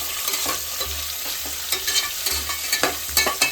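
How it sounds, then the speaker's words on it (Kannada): Onion sizzles in a pan with a bright, steady frying hiss, punctuated by repeated scraping stir strokes at an uneven rhythm, close and alone. "ಈರುಳ್ಳಿ ಸ್ವಲ್ಪ ಫ್ರೈ ಮಾಡ್ಕೋಬೇಕು. ಸ್ವಲ್ಪ ರೋಸ್ಟ್ ಮಾಡಿಕೊಂಡು"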